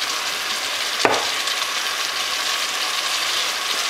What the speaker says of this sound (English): Once that starts sizzling, I'm gonna add it.